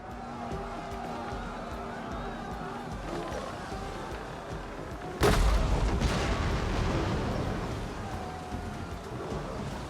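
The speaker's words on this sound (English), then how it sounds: "keep its onager ships in reserve and continue to rain fire down on the enemy" Onager-armed warships in the naval battle game Total War: Rome 2 let loose a sharp, loud boom midway through, which rises out of a constant churning battle din and fades off slowly.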